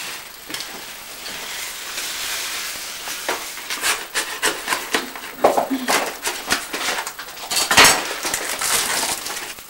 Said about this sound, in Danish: så går jeg imens over og skærer med kød